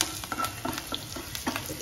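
Ginger and green chillies frying in a pan give a soft, steady sizzle broken by several spoon-and-pan clinks and stirring taps, fairly faint and close, with no speech.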